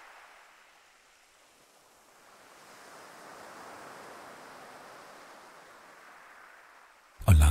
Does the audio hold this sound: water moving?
yes